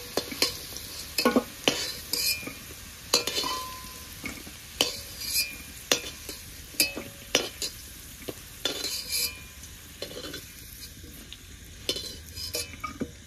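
Potatoes fried in mustard oil without turmeric or salt sizzle in an iron wok, with repeated sharp scrapes and clinks of a spatula as the softened pieces are stirred and lifted out; close and steady, no talking.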